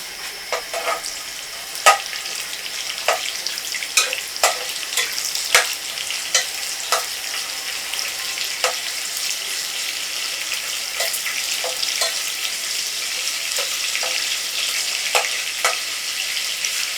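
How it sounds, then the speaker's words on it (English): Onions for fried rice fry in a pan with a constant bright sizzle, punctuated by regular scrapes and taps of a spoon stirring them, close and without speech. "Then I have my onions. I like to cook again. Let it fry properly rather."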